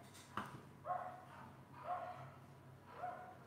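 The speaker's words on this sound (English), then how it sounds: "There's a dog." A dog barks outside in a short series of three or four muffled, distant woofs spaced about a second apart over a quiet room background.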